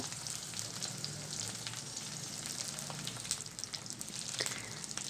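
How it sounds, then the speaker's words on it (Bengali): Jujubes sizzle as they fry in hot oil seasoned with panch phoron for a water-free pickle, a steady close crackle with scattered pops and no talk. "এবার এই তেলেই কুলগুলোকে সবগুলোকে দিয়ে দেব"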